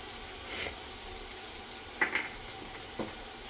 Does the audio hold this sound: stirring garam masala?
yes